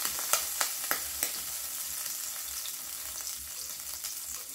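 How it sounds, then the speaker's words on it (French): Butter sizzling in a hot frying pan, a soft, steady hiss with a few sharp clicks early on, fairly quiet and close, with no voices. "ma poêle est chaude, donc on va essayer de ne pas brûler le beurre"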